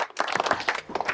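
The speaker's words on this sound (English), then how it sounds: "give yourselves a round of applause" A brief burst of audience applause from a youth group, dense overlapping claps and some cheering voices lasting about a second.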